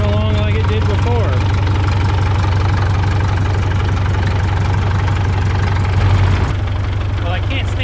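A 1952 Caterpillar D2 diesel crawler idles loud and close, a steady low rumble with an even knocking beat throughout, briefly swelling for a moment near the end before settling back.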